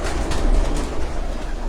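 Pigeons on a rooftop loft in Jalalpur Bhattian coo and flutter in a steady low murmur, with broadband rustling noise throughout and no talking.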